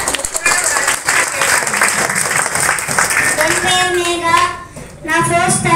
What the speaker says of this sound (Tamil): அதனால இவங்களுக்கு ஒரு பெரிய கைத்தட்டலோட